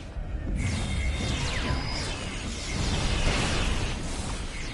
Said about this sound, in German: Michael Berman benutzt ja jetzt auch ihren Phaser-Kanone.